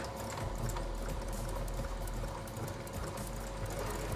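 A sewing machine stitching with a double needle, a steady fast mechanical whirring and clatter heard close up and alone, continuing evenly throughout.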